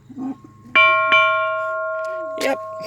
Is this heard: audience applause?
no